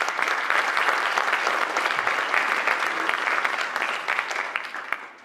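Sustained applause from an audience at a school winter sports awards ceremony, honoring the school administration; dense, steady clapping fills the room before thinning slightly near the end.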